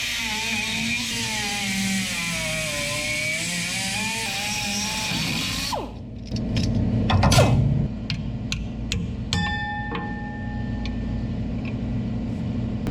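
A small rotary grinding burr whines at high speed as it cuts a weld on a 1961 Chevy Wagon, its pitch wavering under load for several seconds before cutting off, followed by scattered clanks and knocks.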